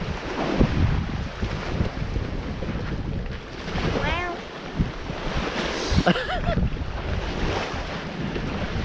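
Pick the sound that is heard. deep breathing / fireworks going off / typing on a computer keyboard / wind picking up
wind picking up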